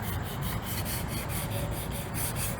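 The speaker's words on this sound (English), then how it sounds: "So go ahead and sand it down like that." Sandpaper rasps steadily in dry sanding of a new car part in quick, regular back-and-forth strokes, close and continuous throughout.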